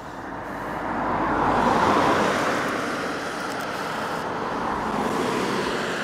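Steady roadside traffic on a Swedish road rushes past, a broad continuous roar that swells slightly and stays loud and close throughout.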